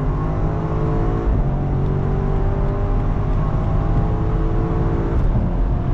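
BMW X5M with a stage 2 tune pulls hard in automatic mode. Engine harmonics climb steadily, then drop sharply at a quick gear shift before rising again. The engine drone is loud and close, with no talk over it.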